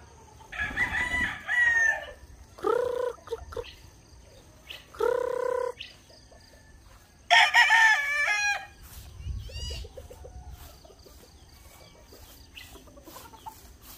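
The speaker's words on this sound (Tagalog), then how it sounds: "Napakaraming manok," Several roosters crow in turn across a farmyard among many chickens, four loud, drawn-out crows in the first nine seconds, then quieter clucking and farmyard background with occasional distant crowing.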